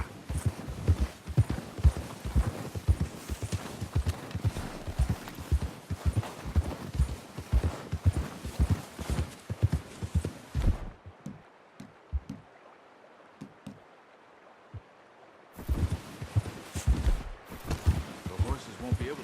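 Horse hooves clip-clop in an uneven walking rhythm in the video game Red Dead Redemption 2, a brief quiet gap, then hoofbeats resume, close and fairly loud.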